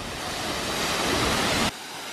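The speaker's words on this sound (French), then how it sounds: "Bienvenue aux cascades" A waterfall on Jeju Island gives off a steady roar of rushing water that grows slightly louder, then drops abruptly to a softer wash. It is close and loud, with no talking.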